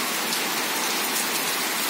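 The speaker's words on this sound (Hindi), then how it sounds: "बारिश लगी हुई है बहुत ज़ोरों शोरों से, और हवा के साथ तिरछी हो रही है" Heavy rain pours down, slanting in the wind, as a dense, steady, loud hiss that fills the whole stretch without a break.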